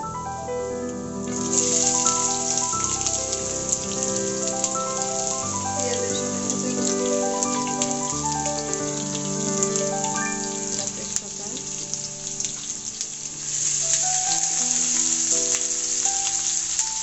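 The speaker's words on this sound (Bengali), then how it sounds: "এবার দিয়ে দিলাম পেঁয়াজ কুচি" Chopped onions hit hot mustard oil in a chicken-and-grape curry pan, a loud, close, continuous sizzle with crackling spits that continues steadily throughout, while soft music plays underneath.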